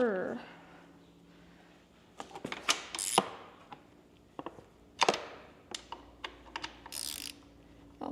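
A hand tool works at a stubborn bolt on a KTM 85SX dirt bike, giving sharp ratcheting clicks and metallic clunks in scattered bursts at close range, with a person speaking in between.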